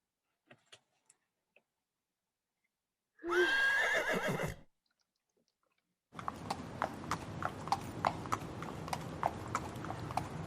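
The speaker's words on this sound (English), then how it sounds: "That sounds like a horse." A horse whinnies loudly once, then after a pause a steady clip-clop of hooves trots along close by.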